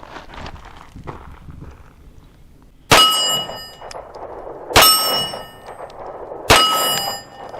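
Three sharp, loud gunshots from a Ruger RXM 9mm pistol fired one-handed at steel targets, evenly spaced about two seconds apart, each followed by a bright ringing metallic clang from the hit steel, with faint shuffling before the first shot.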